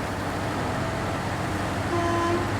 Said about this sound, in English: My premature victory honk.